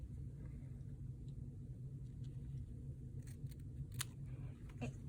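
Scissors cut Stef Francis embroidery thread in a few quick, faint snips over a low background rumble.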